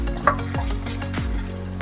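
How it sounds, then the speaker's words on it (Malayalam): Thin-sliced ginger for a homestyle pickle fries in hot oil, crackling and sizzling while a utensil stirs and scrapes the pan with soft clinks, close and steady. "നമുക്ക് നേരെ എണ്ണയിലിട്ട് ഇട്ട് കൊടുക്കാം. കുറേശ്ശെ ഇട്ട് വറുത്ത് കോരിയെടുക്കാം"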